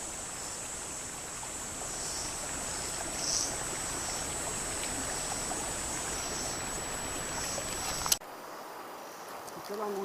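Waterfall on the Noque river in Tucumán, a steady broadband rush of falling water close by that fills the clip before cutting off sharply near the end.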